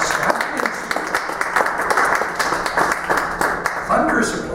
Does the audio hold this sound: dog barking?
no